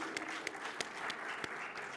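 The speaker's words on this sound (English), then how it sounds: "Another round of applause, please." An audience applauds storytellers at a YouthConnekt 2024 African youth event, a steady wash of many hands clapping with a few sharper claps popping out, a moderately loud crowd sound filling the whole stretch.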